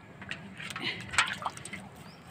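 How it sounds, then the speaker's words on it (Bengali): Chili plants on a rooftop getting watered, with soft splashing and trickling water in short uneven bursts, faint and close. "এই লঙ্কা গাছগুলোতে একটু জল দিয়ে যাচ্ছি"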